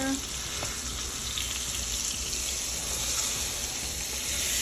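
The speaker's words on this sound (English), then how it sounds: "Let the oil get underneath there, like that. Let this side get seared," Tri tip beef searing in hot oil in a pan, a steady close sizzle and hiss of frying that holds at an even level throughout, with no one talking.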